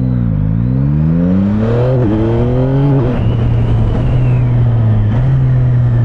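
A 2024 Yamaha MT-09 motorcycle engine revs up and pulls through the gears with a quick-shifter, its loud, close drone rising and dropping in pitch across several shifts.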